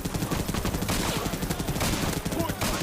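Rapid gunfire from the World War II shooter game Europe Front Remastered, sustained and loud, with dense bursts of automatic fire and overlapping shots running throughout.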